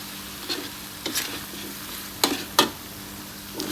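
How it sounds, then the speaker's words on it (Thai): Shrimp stir-fry in a wok with a steady hiss of sizzling oil, broken by several sharp scraping strokes of a spatula against the pan at irregular intervals. "เสร็จแล้วก็ใส่กุ้งลงไป ผัดให้สุก"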